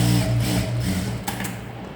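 Sewing machine running as it stitches a blouse along the very edge of the fabric, a steady close mechanical whirr with a faint rhythmic chatter and a couple of brief clicks, no talking.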